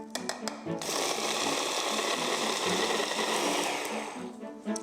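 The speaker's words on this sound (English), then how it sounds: "Use a blender or processor and add a good helping of icing sugar." A blender puréeing fruit with icing sugar to make a coulis, a loud, steady whirring drone that starts abruptly after a few brief clicks and runs continuously before tapering off.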